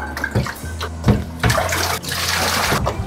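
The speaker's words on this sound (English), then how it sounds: "And I'll give it a really, really good rinse." Running water rinses a cyanotype print during tannic acid toning, a close, continuous splashing and gushing that swells and shifts as the paper is moved under the flow.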